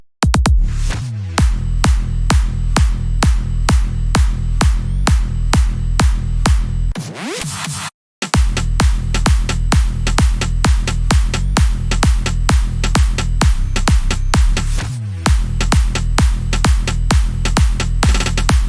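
Electronic drum pattern programmed in FL Studio: a rapid snare fill with steady kick drum, dense repeated hits at a fast even rhythm, loud and up front, with a brief drop-out near the middle before the pattern resumes.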